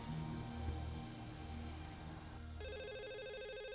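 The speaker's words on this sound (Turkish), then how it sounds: "oğlum bir telefona bak" A telephone rings in a Turkish drama scene, a steady electronic ring that grows brighter and more tonal partway through, heard alone with no talking.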